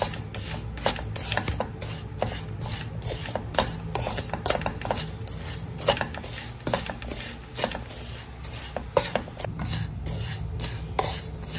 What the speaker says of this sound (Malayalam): അത് നമുക്ക് നന്നായിട്ടൊന്ന് ഇളക്കി കൊടുക്കാം